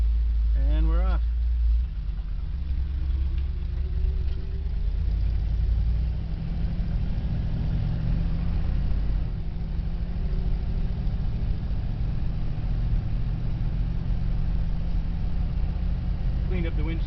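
A 1977 Dodge van's engine drones steadily while driving down the road, a close, continuous low rumble with road noise that barely changes in pitch throughout.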